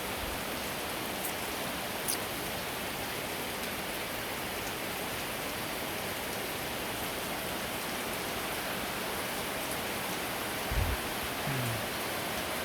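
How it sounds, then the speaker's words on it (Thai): Out-of-season rain falls steadily in a hot, dry spell, a dense, even hiss of drops on surfaces with a faint thump near the end and no talking. "แต่ฝนอันนี้ก็เป็นฝนหลงฤดูแล้วนะ"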